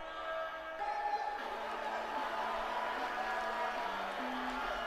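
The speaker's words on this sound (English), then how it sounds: "Wow, this crowd is excited." Wrestling arena crowd in the WWE 2K18 video game, a steady distant roar of cheering that swells slightly after the first second, with faint tonal music-like notes underneath.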